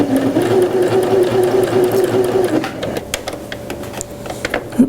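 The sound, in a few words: sewing machine stitching a zigzag seam finish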